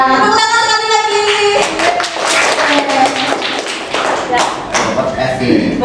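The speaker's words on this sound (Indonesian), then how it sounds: "tepuk tangan sekali lagi." A group of teachers at a school training session claps hands together, a dense burst of overlapping claps close by, with a voice speaking over it and some tonal sound in the opening seconds.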